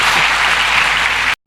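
A church congregation applauds during a sermon, a dense, loud burst of clapping that fills the space, then cuts off abruptly near the end before a brief return.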